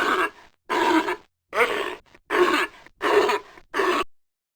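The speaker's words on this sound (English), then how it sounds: "sea lion" A sea lion gives six loud, rough grunts in a steady rhythm, each about half a second long and separated by short silences, close and alone.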